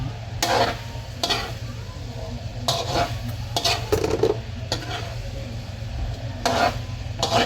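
Pork menudo with garbanzos and green peas being stirred in a cooking pot, with repeated scraping strokes of a utensil against the pot and soft clinks over a low continuous sizzle.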